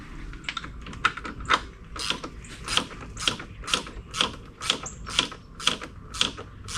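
Bolts being tightened on the tilt and trim motor of an Evinrude 150HP outboard, heard as a close series of quick ratcheting clicks in regular bursts, with no voices.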